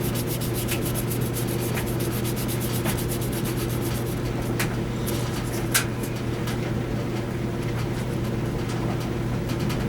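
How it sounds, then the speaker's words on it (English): Steady, loud rubbing of 2000-grit sandpaper on a primed spot of a car body, with a constant hum underneath and occasional clicks. "now I'm gonna sand the spot where I primed."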